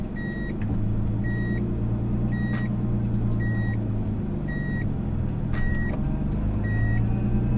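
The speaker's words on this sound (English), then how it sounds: "Back out of the driveway here." A Nissan R32 car backs out of a driveway with a low, steady engine rumble up close, while a series of evenly spaced electronic beeps repeats over it.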